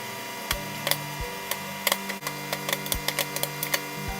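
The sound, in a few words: popcorn popping in an upside-down microwave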